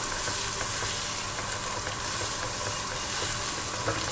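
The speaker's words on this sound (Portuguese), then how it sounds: "Então as nossas cebolas já deram uma caramelizada." Chopped onions fry and caramelize in a hot pan for a fettuccine dish, giving a steady, dense sizzle with small crackles and pops throughout and no voices.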